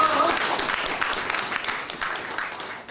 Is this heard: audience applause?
yes